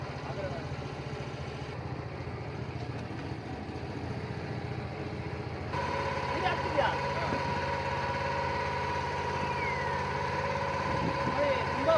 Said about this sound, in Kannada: ಬೋಟಿಗೆ ಇಂಜಿನ್ ಸ್ಟಾರ್ಟ್ ಮಾಡಿದ್ದಾರೆ ಈಗ